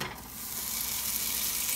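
Butter melting over medium heat in a pan on the stove gives off a steady, dense sizzle, close and fairly loud, with no voices.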